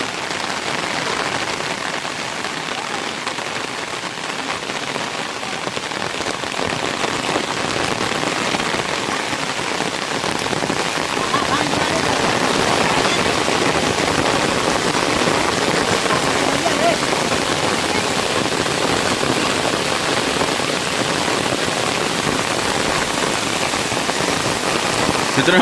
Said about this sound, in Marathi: मित्रांनो पाऊस बघ केवढा आला तो मोठा आला पाऊस